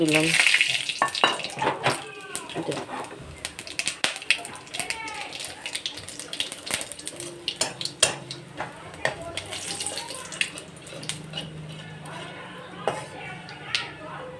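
Whole garam masala, cumin and dried red chili crackle in hot fat as spices temper, with scattered clinks of a spoon against the pan and a voice talking over the frying.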